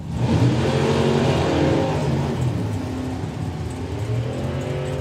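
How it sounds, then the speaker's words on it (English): Drag racing cars at the Easter Nationals roar at full throttle down the strip toward the finish stripe at around 150 plus, a loud sustained engine blare with layered harmonic exhaust tones and no talking. "Throttle stops lift and they charge to the stripe around about 150 plus"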